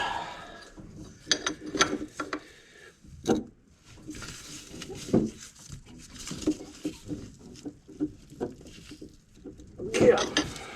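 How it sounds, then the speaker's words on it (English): A wrench ratchets on the bolts of a car's power steering pump, giving short irregular clicking bursts and metallic knocks at close range between quiet pauses. "Now, if I can get a wrench on this thing"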